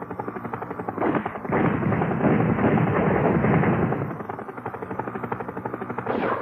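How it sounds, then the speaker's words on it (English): Helicopter gameplay in the video game Urban Strike: a steady loud rotor-and-engine drone with bursts of gunfire and explosive booms layered on top, continuous throughout with a brief dip near the start. "you've got a fancy new and all-powerful helicopter"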